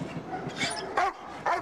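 A dog barks in a few short, close yips and woofs spread over a moment, fairly loud and with no talking over them.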